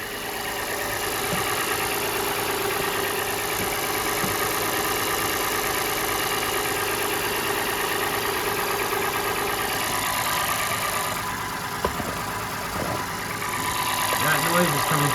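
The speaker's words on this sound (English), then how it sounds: "That noise is coming from the motor itself." An Acura MDX engine idles steadily after a complete timing belt service, a continuous mid-pitched hum with a faint ticking texture, recorded close up.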